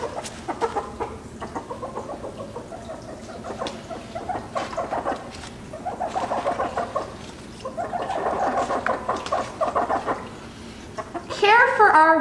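A Sumatra chicken clucking in repeated bursts of nasal calls, close and fairly loud, with a rising squawk at the end and faint background noise.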